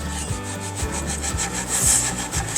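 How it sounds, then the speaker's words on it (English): Hand sanding of cedar wood pigeonholes, done gently along the edges: a steady back-and-forth rasping rub with regular strokes, close and fairly loud, with no voices. "see how she's going with the sanding of the cedar"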